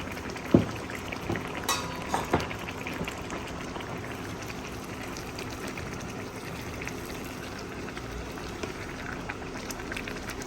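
Rice cooks in a pot on a hostel room stove, steady bubbling boil running throughout, with a few knocks and scrapes of stirring near the start, then the simmer carries on alone.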